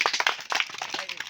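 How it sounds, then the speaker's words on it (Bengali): A small group claps for a contestant in a balloon-popping game played with a pen, quick irregular hand claps forming a brief, close round of applause. "কলির জন্য সাধনামূলক একটা জোর হাততালি"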